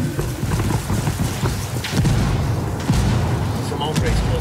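Artillery explosions from indirect fire in the video game Ghost Recon Wildlands: heavy, rumbling booms roll through a dense, continuous battlefield din, with sharper blasts landing around the middle of the clip.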